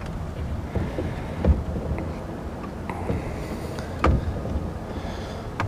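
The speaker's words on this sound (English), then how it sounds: "There's that wind I was looking for." Wind gusts buffet the microphone beside a fishing dock, a low rumbling roar with heavier thumps near 1.5 and 4 seconds, loud and steady with no voices.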